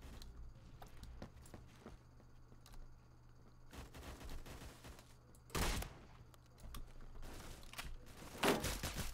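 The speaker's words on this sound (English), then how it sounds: "I also gave out my position with a shotgun blast" A shotgun firing in the online shooter Phantom Forces on the Dust 2 map: sharp booming blasts stand out over a busy bed of distant gunfire, footsteps and rattling game noise, with one loud shot near the middle and another near the end.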